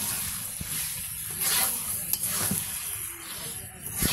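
Chicken pieces with ginger-garlic paste and spices sizzle and fry in a pan, village style, under steady close stirring and scraping with a constant crackling hiss.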